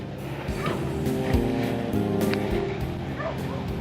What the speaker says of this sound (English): I hear a dog barking in the distance.